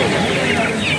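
Chickens cluck among poultry, guinea fowl and turkeys at a busy Sunday poultry market in Nellore. A short, loud burst is heard with crowd chatter and voices mixed in.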